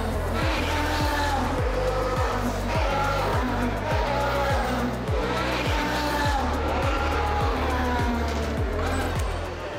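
Formula 1 cars run on the Monaco street circuit during practice, and their high-pitched engines whine and shift steadily over a constant roar, heard at a distance with faint voices underneath.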